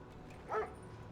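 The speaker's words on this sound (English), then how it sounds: "He gets like a little bark" A dog unit in the video game Command and Conquer Red Alert 3 gives a single short bark, brief and fairly faint, over a low steady game background.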